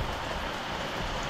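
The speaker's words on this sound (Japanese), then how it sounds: "今ですね雨が強く降ってきたのでちょっと雨宿りです。" Heavy rain pours down steadily at the Srinagarind Dam reservoir in Thailand, a dense, even hiss with no other sound standing out.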